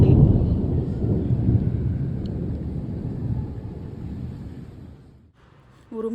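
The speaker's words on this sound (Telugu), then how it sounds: "ఉరుములు అయితే కంటిన్యూస్గా వస్తున్నాయండి." Thunder during a cool, pleasant evening in Bangalore as rain threatens: a long, deep, continuous rumble that slowly fades over several seconds, followed by a brief quiet gap and a faint voice.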